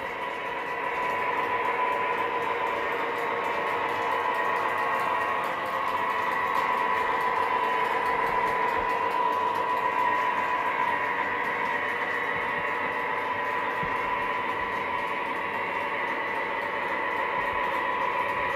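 A small motor whirs steadily with a rapid mechanical clicking and gear whine, continuous and close, like a model train running along its track.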